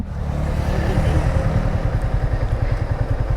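A motorcycle engine runs close by at a low, steady throb, idling with a slightly uneven pulse and a faint clatter, loud and alone.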